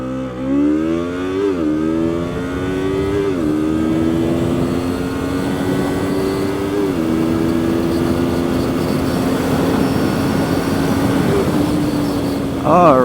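A Kove Cobra 321R motorcycle is ridden at full throttle, its engine climbing in pitch through several gear shifts in a long, loud acceleration over heavy wind noise.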